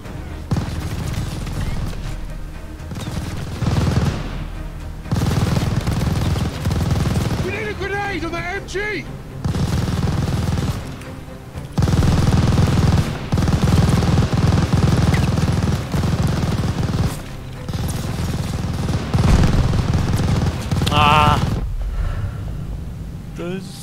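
Machine gun fire in the Call of Duty Vanguard video game, loud and near, with bursts recurring over chaotic battle noise and explosions throughout, mixed under shouted in-game voices.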